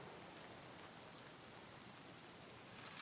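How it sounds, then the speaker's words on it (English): Steady rain falls in the video game Escape from Tarkov, a soft continuous hiss of drops with no talk over it, level and quiet throughout. "And it's still raining."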